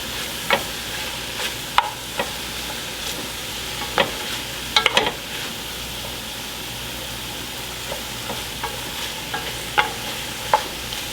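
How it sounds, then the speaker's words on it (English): Chicken cacciatore with garlic sautés in a pan, a steady low sizzle running throughout with scattered sharp clicks and scrapes of a utensil stirring, close and fairly quiet. "we're letting it saute a little bit longer"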